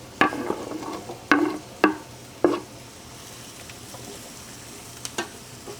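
Garlic and chopped vegetables for ossobuco frying in a pan, several crisp clattering drops and stirs over a soft continuous sizzle, quieter in the middle with a few more taps near the end.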